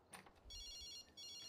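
An in-game phone rings in The Sims 3 with two bursts of a bright electronic trill separated by a short gap, under quiet background game sounds.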